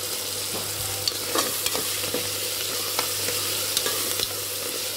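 Coriander stirred into a frying mixture in a pan, a steady sizzle with scattered scraping spoon strokes, close and alone with no talk.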